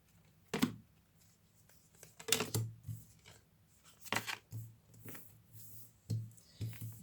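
Tarot cards are handled and laid out one at a time on a surface, giving soft, irregular flicks and papery slaps with gentle low thuds, close and quiet.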